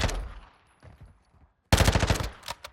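SMG bursts in Call of Duty MWII DMZ, a short rattle then a louder rapid burst near the end, close and punchy with brief gaps.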